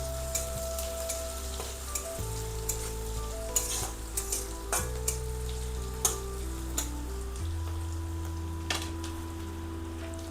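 Onion, garlic and green chili are stirred as they fry in oil. A constant sizzle runs beneath repeated spatula scrapes and clicks, with soft music playing behind it.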